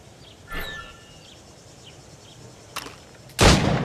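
Two gunshots ring out in the video game Assassin's Creed Rogue: a faint crack early on, then a loud, close blast at the end. Insect-like chirps and ambient game noise fill the gaps between them.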